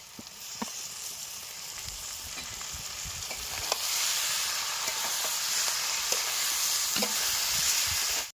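Chopped ginger, garlic, green chilli and tomato fry in a pan outdoors in a village kitchen, a steady hiss and sizzle that swells louder midway, with occasional stirring clicks and no talk.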